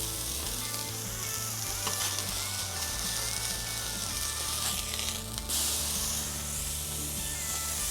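A burger patty sizzles hard in hot clarified butter, a loud, steady frying hiss with crackling spatter, close up, with a brief scrape partway through and no talking.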